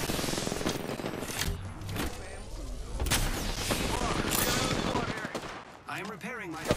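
Enemy gunfire in a video game bursts loudly and repeatedly in dense volleys of rapid shots with heavy booms, close and chaotic, with a voice speaking near the end.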